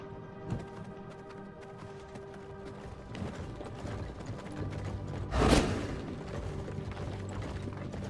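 Hooves of a vampire horse in the V Rising video game clip-clop at a steady gallop over layered game music and ambience, with a brief louder burst of sound near the middle.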